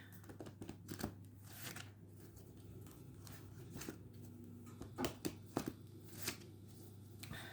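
Tarot cards are handled and picked from a deck, with soft repeated shuffling, sliding and flicking sounds in irregular bursts over a quiet steady hum.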